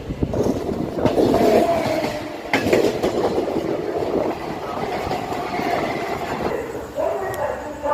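A Circar Express train rumbles and rattles along the rails close by, wheels clacking steadily as it rolls out of Gudur station, with faint voices in the background.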